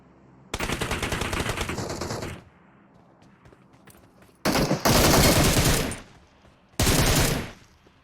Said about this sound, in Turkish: Oha lan burada çatışmalar falan var.